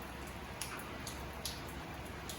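Steady rain falls outside, a soft continuous hiss with scattered drip ticks, heard from indoors where a small pampered dog rests in its bed.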